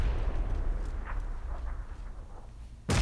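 Grenade explosions in the PUBG battle game: a continuous low rumble of blasts with faint crackles, ending in a sudden loud burst near the close.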